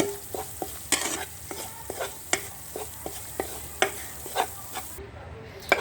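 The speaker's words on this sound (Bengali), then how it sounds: "আটাটা দিয়ে আমি ভালো করে মাংসের সাথে মশলার সাথে কিছুক্ষণ ভেজে নেব" Flour frying with meat and spices in a pan, a low sizzle beneath repeated rhythmic scrapes and taps of a spoon stirring, close and clear with no voices.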